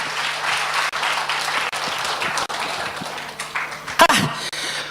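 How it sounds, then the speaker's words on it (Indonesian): Audience applause at a stand-up comedy show, a steady wash of many hands clapping throughout, with a few brief dips and a louder burst near the end. "tepuk tangan dulu buat teman saya, teman muslim."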